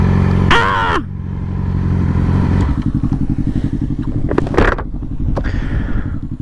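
A motorcycle engine idles loud and close while parking on a dirt spot, a steady throbbing putter with a brief rev near the start and another blip later, no voices.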